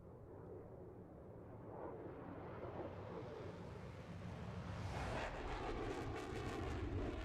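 An aircraft in Microsoft Flight Simulator 2024 sweeps past in a flyby, its engine drone building steadily from a low rumble to a louder, brighter roar as it nears, with no talking.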